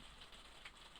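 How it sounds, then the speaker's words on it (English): Light rain falls outside, a faint, steady patter of drops on a surface with soft scattered taps over a quiet background. "sorry for the rain noise."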